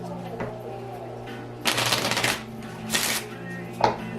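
Pokémon trading cards being shuffled during a game, with two or three brisk riffling bursts of card flutter close to the microphone, separated by quieter gaps and a faint snap near the end.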